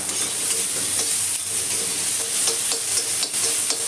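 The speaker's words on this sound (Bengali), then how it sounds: "ঢাকনাটা খুলে আমি আলুটাকে একবার নেড়ে দেবো।" Potatoes, partly softened but not yet cooked through, are stirred in a nearly oil-free pan while making a light rohu fish broth. A steady, close sizzle runs throughout, with regular scraping strokes from the stirring.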